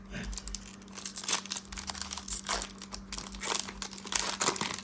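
Trading card foil packs being ripped open, a steady run of close, loud crinkling and tearing with brief crunchy bursts and no talk.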